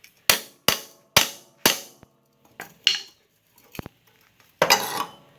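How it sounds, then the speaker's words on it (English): Sharp metal-on-metal hammer strikes ring against a rusty David Bradley tractor steering gear: four quick evenly spaced blows, a pause, then several scattered hits ending in a heavier, longer clang. "I'm going to try to hammer this behind the gear."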